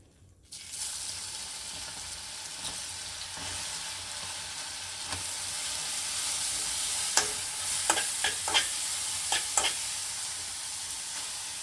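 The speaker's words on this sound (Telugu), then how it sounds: "హీట్ అయింది కదా, దీన్ని వేసేసుకోవాలి క్యారెట్." Grated carrot sizzles in a hot pan for carrot halwa, a steady close frying hiss with a few sharp scraping strokes of stirring near the end.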